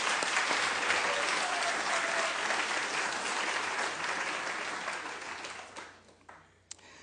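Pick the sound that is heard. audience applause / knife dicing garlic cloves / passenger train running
audience applause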